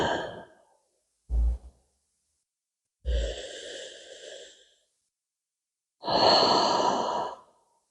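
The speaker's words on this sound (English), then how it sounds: "I can take some deep diaphragmatic breaths here." Slow, deep diaphragmatic breaths taken while stretching on a foam roller, three long airy inhales and exhales spaced a second or two apart, close and fairly loud with no talking.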